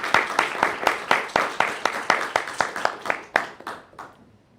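An audience at an academic doctoral mentoring session claps in a brisk, regular rhythm that is fairly close and loud, then tapers off and fades out after about four seconds.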